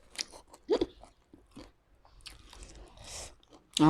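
Close crunching and biting of som tam, a Thai papaya salad made with makok, as someone eats in a few sharp mouthfuls with quiet chewing between.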